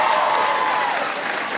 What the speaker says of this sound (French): mille applaudissements pour vous qui embarquez dans ces folies-là